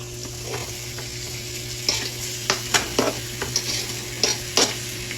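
Chicken sizzles in a frying pan over a steady background hum, broken by a series of sharp scraping and stirring clicks as a utensil moves the pieces around.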